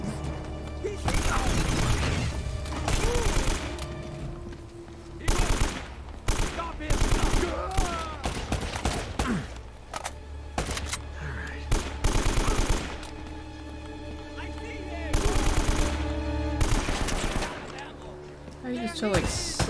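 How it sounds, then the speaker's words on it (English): AK rifle gunfire in the video game Uncharted: Drake's Fortune, repeated loud bursts of automatic fire and single shots with impacts, spread across the whole stretch amid game sounds and someone talking. "seven AK shots and he's still alive"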